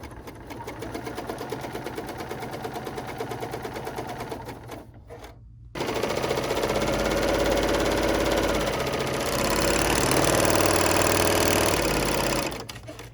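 A Bernina L 890 overlocker runs a 3-thread overlock stitch and chain, a fast steady mechanical whir with rapid needle clatter. It pauses briefly near the middle, then restarts and runs on loud and close.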